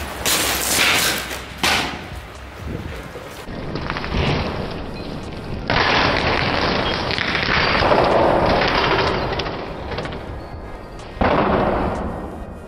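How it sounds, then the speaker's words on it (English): Liquid cesium remnants in a wet vial react violently with water, giving loud bursting, crackling blasts with sharp onsets and sustained roaring noise between them, several surges across the span. "We have decided to destroy the vial with the remnants of liquid cesium by throwing it onto"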